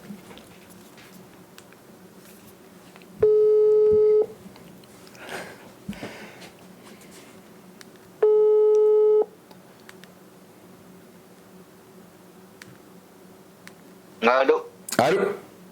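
Two long steady ringback tones sound while a call is being placed, each lasting about a second and spaced a few seconds apart, with soft room noise and faint movement between them.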